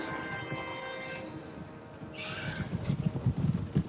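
Horses neigh and whinny in the Total War: Warhammer video game, then a burst of galloping hooves thuds in an uneven rhythm, growing louder toward the end amid a busy battlefield soundscape.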